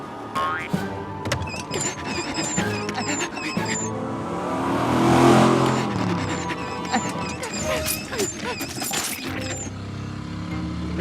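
Cartoon cars race in a jungle setting, engines revving and whooshing amid springy boing and crash effects, busy layered music and effects building to a loud peak midway.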